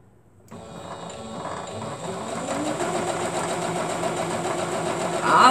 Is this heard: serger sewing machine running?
yes